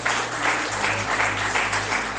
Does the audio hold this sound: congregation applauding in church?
yes